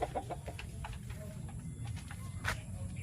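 Texas gamecock chickens clucking softly at a distance, a few scattered low calls over faint rustling and background noise.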